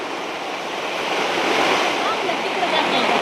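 Steady, rushing floodwater from heavy overnight rain pouring into a sleeping area, a constant broadband roar like a strong flow close by, with no pauses.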